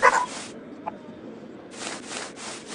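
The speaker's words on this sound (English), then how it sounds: "Barking at a squirrel." A dog barks at a squirrel outdoors during an alpaca event, giving a couple of short bursts at the start and again near the end over steady background noise.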